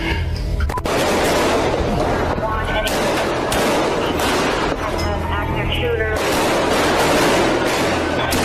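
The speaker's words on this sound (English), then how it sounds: "looks like an exchange of gunfire right out of a Hollywood action movie" Dense, continuous bursts of gunfire crackle throughout, rapid overlapping shots suggesting an exchange, with voices audible underneath the loud barrage.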